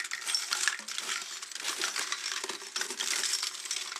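A shake hat, a metal can fitted with many small bells, shaken continuously for several seconds, giving a bright, dense jangling and clinking rattle that stays close and steady throughout.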